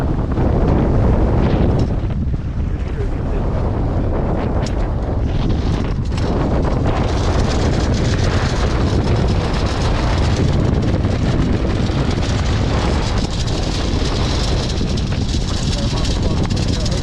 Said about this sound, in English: The wind's just picked up about 30 knots now,